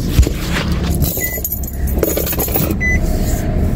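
Keys jangle and a car door and seat thump as someone climbs back into a Nissan Rogue, close and clear with a short clatter of handling sounds.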